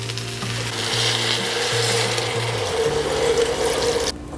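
Cold filtered water pours steadily into a pot over Parmesan rinds, peppercorns and a bay leaf for broth, a continuous close splashing rush that stops abruptly near the end.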